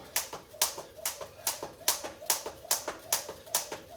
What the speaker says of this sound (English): I hate doing jump rope for you guys because I'm sure hearing that clicking constantly is annoying